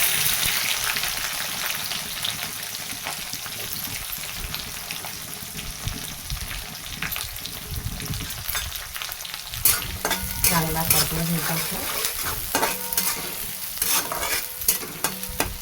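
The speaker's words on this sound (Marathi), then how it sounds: "चांगलं कांदा परतून झाला" Onions sautéing in hot oil with cumin for kanda poha, a steady close sizzle with repeated scraping stirs that grow busier and louder toward the end, no talking.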